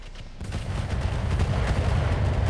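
Heavy mech weaponry firing in the RogueTech BattleTech game, a dense continuous roar of blasts and impacts that swells after a brief quieter start, with no talking.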